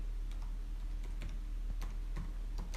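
Fingers tap a computer keyboard in short irregular bursts of light clicks, close up over a low steady hum, with no voices.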